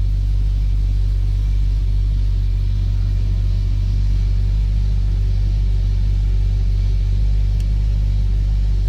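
A 1953 Ford F100 street rod pickup idles steadily at close range, its deep, continuous engine rumble holding even with a faint higher hum above it and no talking.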